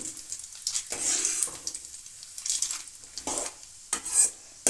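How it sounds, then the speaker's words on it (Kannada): Chana dal frying in a pan, a light sizzle with repeated scraping strokes of a spoon stirring the lentils, soft and fairly close, with one faint clink near the end. "ಕಡಲೆಬೇಳೆ ಸ್ವಲ್ಪ ಫ್ರೈ ಆಗಲಿ"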